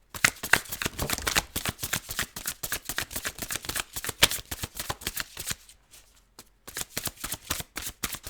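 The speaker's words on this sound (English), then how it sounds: "I'm going to shuffle one more time." Tarot cards riffle and slap quickly in close, crisp bursts, a brief pause near the end before shuffling resumes.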